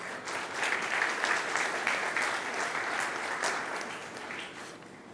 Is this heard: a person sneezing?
no